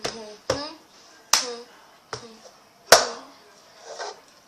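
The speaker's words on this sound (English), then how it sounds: "pick up, slap, grab, slam." A cup song rhythm performed on a table, with sharp hand claps and cup slaps and slams landing as five distinct percussive hits spaced about a second apart, close and crisp, with brief spoken cue words in between.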